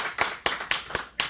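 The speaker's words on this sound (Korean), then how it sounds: "박수" A congregation at a Korean church sermon claps in five sharp, evenly spaced handclaps in unison, loud and close, with no voices over them.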